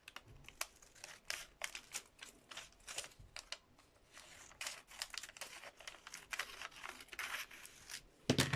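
Scissors or a blade cut out pieces for a lino print: close, quiet, rapid snipping and papery crinkling that keeps up in a steady run, ending with a louder rustle, with no voice.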